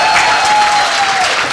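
Audience applause from a crowd at a large event, a brief steady burst of clapping heard alone and fairly loud.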